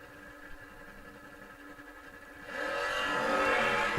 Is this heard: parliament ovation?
no